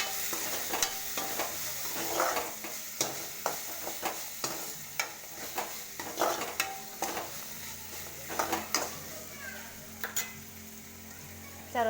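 Potato upma with turmeric being stirred and fried in a pan, with a steady sizzle under repeated scraping and clinking strokes of a spoon against the pot, close and moderately loud, no talking.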